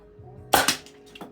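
Homemade air-powered dart gun firing a dart: a single sharp, loud pop with a short burst of rushing air and a faint follow-up click, heard alone at close range.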